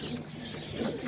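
Homing pigeons, rollers and archangels cooing in a loft, soft low throaty coos close by over a continuous background hum.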